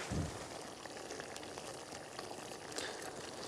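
Onions gently simmering in a pan alongside carrots, spiced with caraway and cinnamon: a soft, steady, fine crackling sizzle, quiet and close, continuing without pause.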